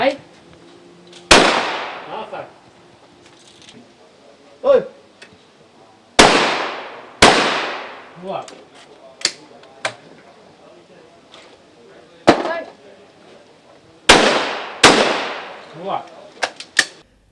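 Sharp, loud gunshots at a hunters' shooting competition, fired singly and in quick pairs with sharp echoing tails, spread irregularly across the span with quieter gaps between shots.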